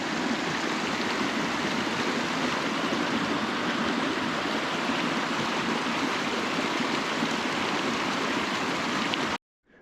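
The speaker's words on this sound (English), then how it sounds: "this must be like our 10th water crossing" A mountain stream rushing over rocks at a hiking trail water crossing in alpine wilderness, a loud, close, steady wash of water that cuts off abruptly at the end.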